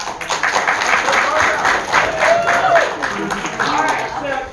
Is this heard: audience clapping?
yes